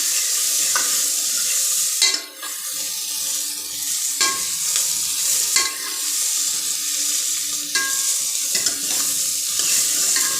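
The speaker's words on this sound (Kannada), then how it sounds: "ಎಣ್ಣೆಯಲ್ಲಿ ಚೆನ್ನಾಗಿ ಹುರ್ಕೊಬೇಕು ಅಂದರೆ ಎಣ್ಣೆ ಎಲ್ಲ ಹಾಗಲಕಾಯಿ ಹುರಿಬೇಕು" Bitter gourd fries in oil in a pan for sambar, a continuous close sizzle broken by repeated scraping stirs of a spoon at irregular intervals, with no talk.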